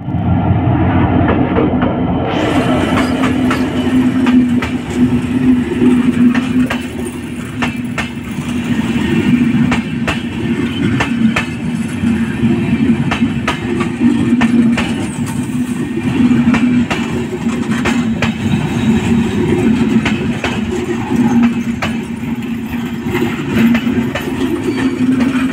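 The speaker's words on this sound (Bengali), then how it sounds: "আর এখন এই ট্রেনটি এখানে ক্রসিংয়ে পড়েছে, তো এটাও যাবে জয়দেবপুর।" The Panchagarh Express bound for Joydebpur stands at a railway crossing, giving a loud, steady engine idle with a low hum and scattered clicks and knocks throughout, close by and with no voices.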